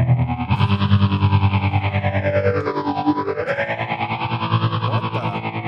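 Distorted electric guitar through a Chase Bliss Wombtone phaser pedal, the tone swooshing down and back up in a slow arc while the chord sustains loudly.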